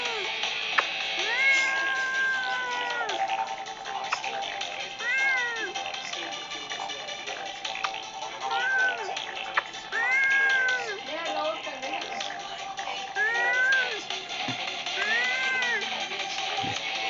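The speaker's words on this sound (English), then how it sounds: "I drifted so hard that the cat meowed." A cat meows repeatedly in a GTA San Andreas knockoff video game, several rising and falling cries spaced across the clip over constant game noise, with talk in the background.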